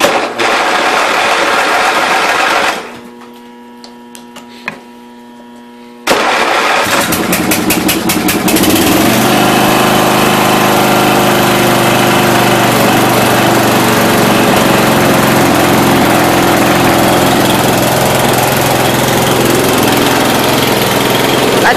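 A 1992 Yard King lawn tractor engine runs loud and close, cuts out for a few seconds with a faint tone in the gap, then restarts and keeps running steadily at high throttle.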